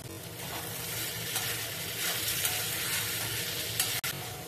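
Kerala style chicken curry being sautéed in a pan gives a strong, continuous sizzle with stirring scrapes, close and steady throughout, with no talking.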